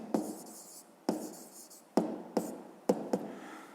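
Pen writing on paper during a fifth-grade maths exercise, heard as several short scratchy strokes in separate bursts, close and fairly quiet, with no talking.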